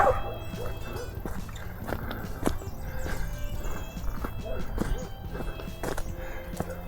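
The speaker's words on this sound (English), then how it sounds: "It's got to always be a yappy dog." A small dog yaps in short, scattered bursts at a distance across the countryside near Choachí, Colombia, faint against a low outdoor background with occasional knocks.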